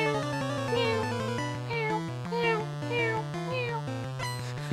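A person imitating a cat, producing a continuous run of loud, close, drawn-out meows that rise and fall in pitch, with no other sound around them.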